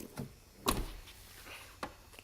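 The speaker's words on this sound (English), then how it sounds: "Soft closed doors" The soft-close door of a 1998 Mercedes S320 pulls shut with a quiet motorized hum and a muffled latch thunk, followed by a softer mechanical click, faint and close in a calm setting.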